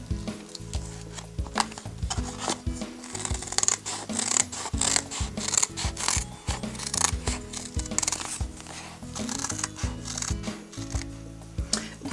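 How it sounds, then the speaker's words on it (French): Scissors cutting an adhesive stencil for a frosted-effect Christmas decoration, giving close, steady snipping and rustling strokes that repeat unevenly throughout at moderate loudness, with no talking. "je vais découper au ciseau"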